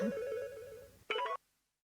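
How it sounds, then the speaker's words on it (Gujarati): A phone rings with an incoming-call ringtone: a steady electronic tone, then a brief, brighter melodic burst before it cuts off. No one speaks. "નીરવનો ફોન છે."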